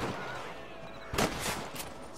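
Gunfire in the Red Dead Redemption video game, a short burst of shots around the middle over a busy background of game noise, followed by a fainter crack.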